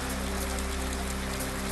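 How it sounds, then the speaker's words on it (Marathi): Heavy monsoon rain pouring steadily in Vaijapur taluka, Chhatrapati Sambhajinagar, a dense unbroken hiss of drops drumming on surfaces with a low steady rumble underneath, close and constant throughout. "छत्रपती संभाजीनगरच्या वैजापूर तालुक्यामध्ये मुसळधार पावसाची हजेरी."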